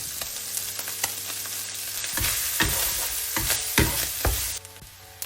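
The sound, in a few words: stir-frying chicken with curry and butter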